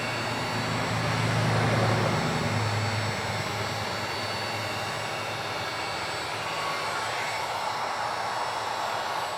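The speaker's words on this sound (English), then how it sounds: "Gotta do some heat shrinking." A heat gun blows steadily while shrinking heat-shrink tubing on LED tail light wiring, a continuous airy whoosh with a slight swell near the start, fairly quiet and alone with no speech.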